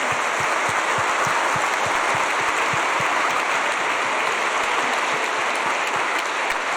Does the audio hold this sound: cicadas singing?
no